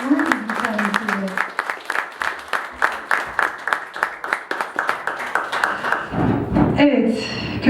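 An audience at a film talk event claps in a run of rapid, close hand claps that fades out, followed by speech.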